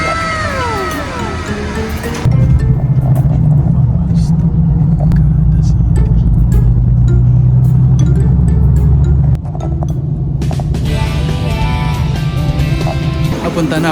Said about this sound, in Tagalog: Yung bus papuntang Milan.